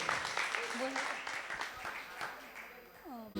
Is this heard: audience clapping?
yes